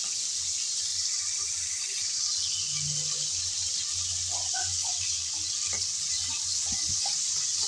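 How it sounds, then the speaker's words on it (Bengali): Prawns stirred and fried in hot oil in a pan, with a steady close sizzle throughout and occasional scraping and stirring knocks, plus faint watery splashes; no talking. "কিছুক্ষণ নেড়ে চেড়ে চিংড়ি ভেজে নিলাম"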